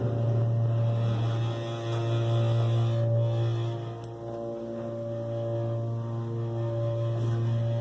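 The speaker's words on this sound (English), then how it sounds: "Still the motor." Motor of an older Otis Series 1 elevator in an office building in Wethersfield, CT, a steady low electrical hum with a buzzing tone that holds throughout, with a slight dip midway and faint clicks, no talk.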